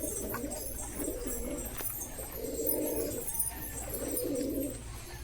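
Pigeons, a pair of white-eyed birds just let loose in a Beldanga market flock, give repeated soft low coos in several rhythmic bursts, fairly close over a faint steady background hiss.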